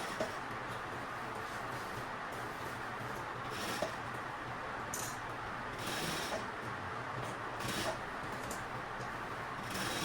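A sewing machine runs steadily, stitching all the way around a teacher's tote bag, a continuous mechanical whir with faint ticking and occasional brighter clicks, close and unbroken, with no voices.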